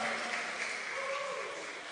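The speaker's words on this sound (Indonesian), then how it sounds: "Tepuk tangan meriah untuk Bapak" An audience at a church choir competition applauds as a jury member is introduced, a continuous soft clatter of many hands under a faint speaking voice through the venue's sound system.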